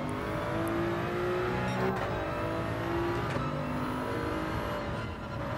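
A race car engine in Gran Turismo 7, played on PSVR2 with a Thrustmaster T-GT II wheel, drones loud and steady with repeated rising and falling revs through gear changes around a track, and no talking.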